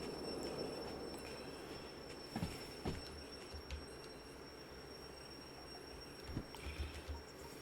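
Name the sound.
freight train rolling, Derail Valley video game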